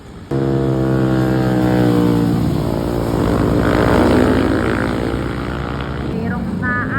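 Suzuki Raider and Yamaha NMAX motorcycles ride along a road, their engines droning loud and steady throughout with a rising whine partway, and a brief burst of passing noise near the end.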